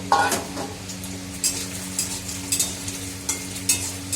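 Paneer pieces fry in a pan until reddish-brown, a steady sizzle broken by sharp clinks and scrapes as a utensil stirs them against the metal, with no voices.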